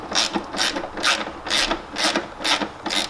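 A ratchet wrench with 10 and 13 mm sockets works on an Audi S8 engine during removal, giving seven evenly spaced bursts of sharp clicking, close and clear with no talking.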